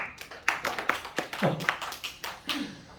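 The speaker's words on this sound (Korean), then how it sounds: "박수 한번 주세요" Scattered clapping from a youth congregation at a church worship service, a handful of uneven hand claps close by, with a voice briefly audible among them.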